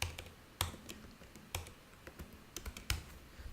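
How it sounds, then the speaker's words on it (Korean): Keys clatter on a computer keyboard while a Command 2 shortcut is typed in Final Cut Pro, giving scattered light clicks and taps at an irregular pace, close and quiet. "커맨드 2 버튼을 눌러서"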